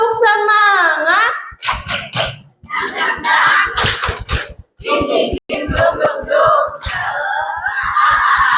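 A group of children at a charity gathering for orphans loudly chant and clap in the rhythmic 'tepuk semangat' routine, with shouted voices and bursts of sharp handclaps alternating close to the microphone.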